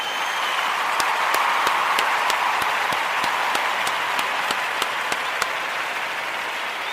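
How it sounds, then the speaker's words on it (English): A crowd applauds steadily and loudly, a dense wash of clapping that continues throughout without pause. "I want to give all of the Ujamaa babies a round of"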